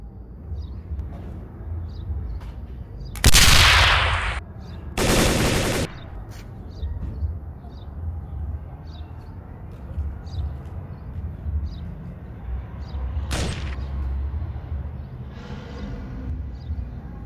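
Sharp, loud bursts of gunfire and a grenade blast ring out in a tactical shooter video game during a hunt for a cartel leader, coming in a few separate spaced bursts over a low, rumbling background.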